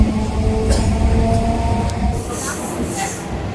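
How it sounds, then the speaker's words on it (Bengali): A train pulls out of Berhampore Court station, its steady low rumble and rolling hum filling the scene, with faint tonal whines and brief higher hiss bursts near the end. "তো ট্রেন এখন বহরমপুর কোর্ট স্টেশন থেকে ছেড়ে চলে যাচ্ছে।"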